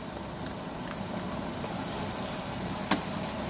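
Green chilli and ginger-garlic paste frying in a pan for arvi masala gravy: a steady, close, hissing sizzle that runs throughout, with one brief clink near the end.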